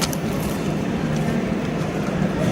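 Train at Roma Termini station in Rome, heard as a steady, loud low rumble with broadband hiss throughout, no distinct events, like a train idling or moving slowly at the platform.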